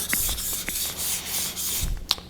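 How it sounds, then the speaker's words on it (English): Edge of a single-bevel yanagiba knife polished on a stone, a steady close rubbing swish with a few light taps, no talk. "The next goal is to polish the edge of the knife."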